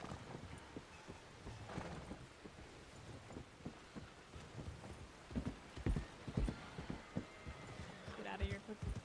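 A horse canters in RedM, the Red Dead Redemption 2 roleplay game, its rhythmic hoofbeats thudding in quick repeated clusters that grow louder toward the end, with a snort or whinny near the close.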